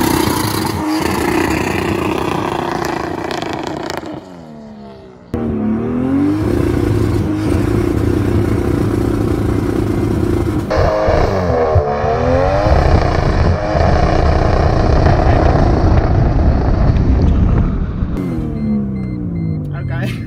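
A Mercedes W203 with a turbocharged M104 engine revs hard and drones loudly and close in first gear during a burnout attempt, with sustained roaring and rising and falling engine pitch, a short dip midway, and people talking over it.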